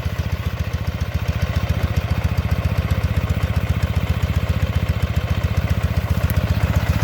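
A Dnepr MT12 sidecar motorcycle with sidecar-wheel drive idles up close, its engine thumping in a fast, even, loud pulse that holds steady throughout with no voices.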